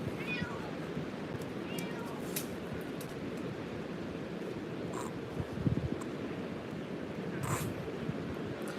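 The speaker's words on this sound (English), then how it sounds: "There was a cat at some point. There is a cat still." A cat meows a few times at moderate distance, the cries rising over steady outdoor wind and rustle, with faint voices in the background.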